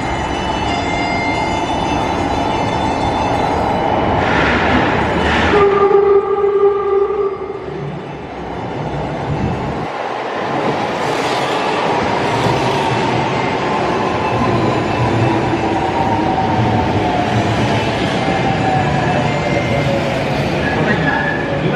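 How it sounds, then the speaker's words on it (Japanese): A Kyoto Municipal Subway 20 series train for Kokusaikaikan pulls into Marutamachi station. Loud rumbling and wheel noise fill the platform and slowly wind down as it brakes, with high squeals, a brief tone and a platform announcement over it. "到着の電車は国際会館行きでございます。"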